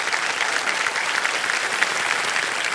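A studio audience on the KBC quiz show claps in a steady, dense burst of applause, loud and continuous for a few seconds with no talk over it.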